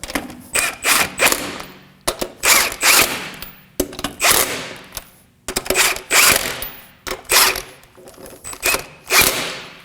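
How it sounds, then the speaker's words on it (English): Torque wrench tightening wheel lug nuts on an Acura MDX, repeated bursts of rapid ratcheting clicks in short strokes separated by brief pauses, close and fairly loud. "Now we're going to torque down our wheel to 80 foot-pounds in a star pattern"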